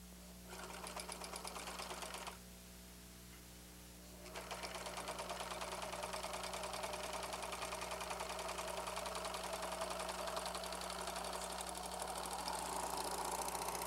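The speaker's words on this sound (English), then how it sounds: "Fold the trim in half, place it along the right side of the neckline and serge" Riccar serger (RL624/RL613 type) stitching folded rib trim onto a T-shirt neckline: steady fast mechanical whirring and needle chatter, briefly pausing then resuming continuously, close and loud with a constant motor hum underneath.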